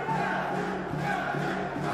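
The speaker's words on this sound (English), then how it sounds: "Crowd are chanting for Nadir." A stadium crowd at a Kings World Cup Nations match between Morocco and Colombia chants for the player Nadir in a loud, rhythmic, sustained roar of many voices.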